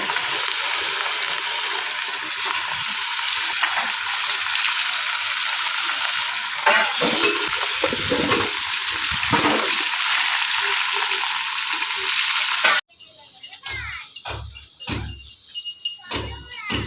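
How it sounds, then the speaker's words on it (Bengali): Fish frying in oil on an outdoor gas stove gives a steady, close sizzle for most of the stretch, then cuts abruptly to quieter, uneven sounds with a few low thumps. "এই যে মাছ ভাজা হয়ে গেছে এখানে,"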